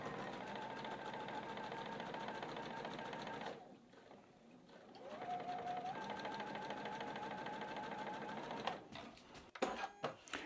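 A sewing machine stitches quilt pieces for a poinsettia quilt, running in a steady, fast mechanical whir that pauses briefly, resumes, then ends with a few clicks and handling knocks.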